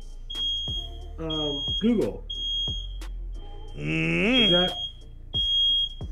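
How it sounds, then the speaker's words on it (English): A smoke alarm set off by bologna frying in a pan gives short, sharp repeated beeps at a steady rhythm, fairly close, while people talk over it. "Who's that beeping? Smoke alarm. I'm frying me some bologna."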